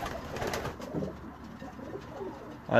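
Breeder pigeons coo softly nearby in low, throaty murmurs over a quiet background.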